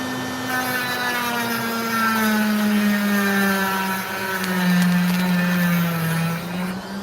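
A saw whines steadily through a piece of opal rough heavily shot through with sand, its pitch sliding down and back up as the blade bites, loud and close.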